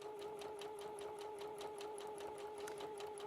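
A sewing machine stitching at an even, rapid pace, its motor humming steadily beneath a regular ticking of the needle, close and continuous with no voices.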